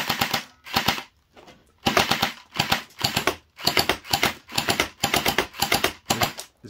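A mini AK-47 gel blaster fires in rapid full-auto bursts at close range, a string of sharp clattering pops broken by brief pauses, loud with no talking over it.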